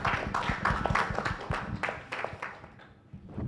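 Audience applause at an international symposium on wildlife biodiversity conservation, with distinct individual claps that start lively and thin out toward the end.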